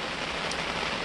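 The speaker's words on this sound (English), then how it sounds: "It's raining out right now." Steady rain pattering on a surface, a continuous soft hiss of drops with no voices.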